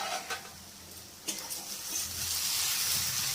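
Kalmi greens frying in a pan after the lid comes off, with a soft sizzle that swells and steadies into a continuous hiss, plus a few light clinks early on.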